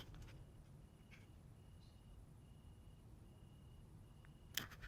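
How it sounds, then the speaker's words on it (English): Crickets outdoors give a faint, thin, repeated chirp in short evenly spaced pulses, heard at a distance over low background hiss, with one brief sharper click near the end. "Interesting enough, we've got crickets outside."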